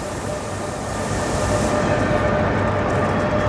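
Regional passenger train in Belgium running steadily, a constant low rumble and rolling wheel noise heard from inside the carriage, with no talk.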